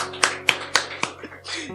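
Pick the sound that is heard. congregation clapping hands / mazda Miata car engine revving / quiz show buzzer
congregation clapping hands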